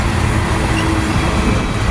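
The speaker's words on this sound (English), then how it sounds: "One slowing down from the siding up here. Must be meeting another train." A CSX freight train slows on the line near a siding in downtown Atmore, Alabama, a loud, steady rumble and roar of rail cars rolling close by with no voices.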